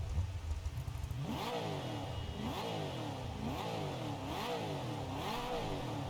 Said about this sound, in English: We got ourselves an off-road vehicle.